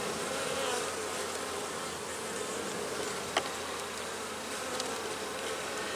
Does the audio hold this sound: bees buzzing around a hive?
yes